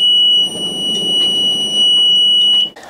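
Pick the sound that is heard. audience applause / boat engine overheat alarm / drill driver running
boat engine overheat alarm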